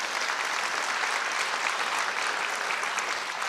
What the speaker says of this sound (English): You can clap for that. Please clap.